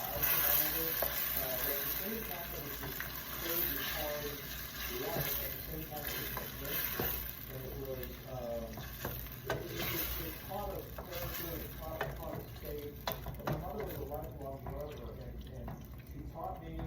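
Piperade of passata, paprika and salt sizzles and is stirred in a pan, a steady close frying hiss with scraping stir strokes throughout, while a person talks over it.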